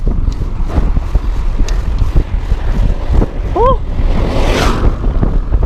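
Strong headwind buffeting a microphone while cycling, heavy low rumbling gusts that roar continuously and loudly, with a brief high whistling sound near the middle and a rushing hiss toward the end.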